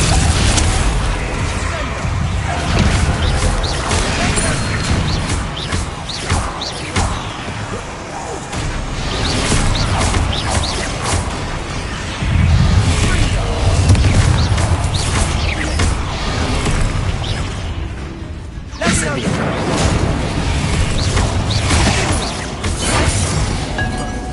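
A Confringo fire-blast spell in Hogwarts Legacy bursts with crashing, booming impacts amid dense, continuous combat noise, with a brief lull near the end before the clamor returns.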